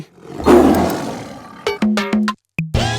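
A tiger roar sound effect in a Telugu comedy film scene, one loud, close roar swelling and fading, followed by a few short sharp comic stings with brief gaps of silence.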